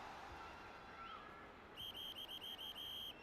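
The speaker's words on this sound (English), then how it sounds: "As the whistle's finally blown." A referee's whistle sounds at a junior college football playoff game: a quick run of about eight sharp, shrill blasts in rapid rhythm, clear over the faint hum of the stadium crowd.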